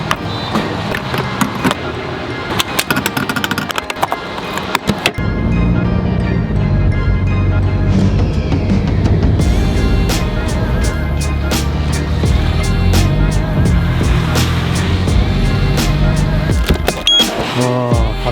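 Subaru STI with an EG33 engine being driven to the shop, a loud continuous engine and road drone after some clattering handling sounds at the start.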